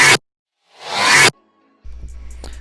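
A Serum synth bass patch bounced to audio and played reversed: a short burst, then a swelling, rising whoosh that cuts off abruptly, followed by a low rumble and faint clicks.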